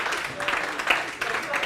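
A classroom audience claps for the class at the end of a CA Intermediate economics chapter revision lecture, a steady wash of applause lasting under two seconds with a couple of brighter bursts.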